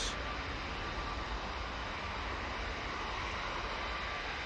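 A TUI jet departing Manchester Airport makes a steady, distant broadband roar of engine noise that stays even for the whole stretch, faint and unbroken, with no voices.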